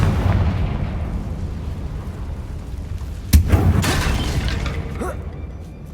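Confringo fire spell explosion in Hogwarts Legacy, a sharp loud blast partway through followed by a crackling rumble that fades, over steady game ambience.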